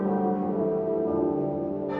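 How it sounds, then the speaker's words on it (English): Church bells in London ring out as an alarm over the outbreak of the Great Fire, a sustained, resonant tolling with long overlapping hum that carries steadily throughout. "the first hint of impending disaster was the sound of church bells"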